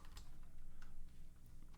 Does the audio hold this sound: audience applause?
no